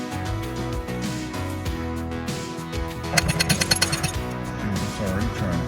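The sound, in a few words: gouging out a teak wood plug over a bolt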